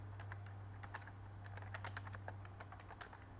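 Typing on a computer keyboard while renaming a playlist, a quick irregular patter of soft key clicks, close and quiet over a low steady hum.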